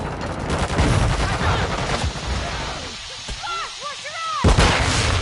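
Grenade blast and rapid gunfire in the video game Modern Warfare 2, loud dense bursts of shots with shouted voices over the combat, a quieter lull, then another sharp burst near the end.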